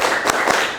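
Two soft claps from children doing a 'tepuk dua, tiga' clapping pattern in a classroom, the claps spaced evenly over a steady background of room noise.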